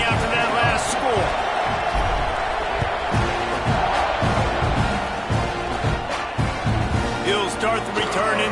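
Large football stadium crowd at an LSU versus Texas A&M game, a loud continuous roar and buzz of many voices with shouts and cheers rising and falling, a commentator talking over it.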